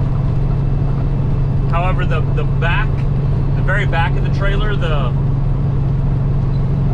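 Truck and trailer cruising down Highway 7, a steady low engine drone and road rumble running throughout with someone talking over it.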